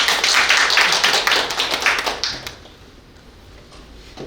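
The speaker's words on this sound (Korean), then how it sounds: "세 분을 뜨거운 박수로 다시 모시겠습니다." Audience applause at a panel discussion session, welcoming three panelists back to the front; brisk clapping fills the first two and a half seconds, then fades quickly into a quiet room.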